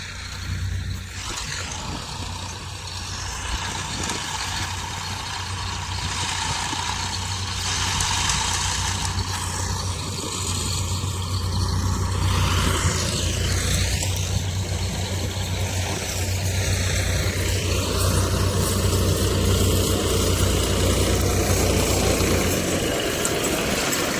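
A tractor engine runs steadily on a farm, a low continuous rumble holding at an even level for the whole stretch with no talk over it.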